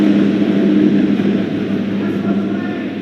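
A steady roar of an airplane passing overhead, loud and continuous with a droning low hum that slowly fades slightly.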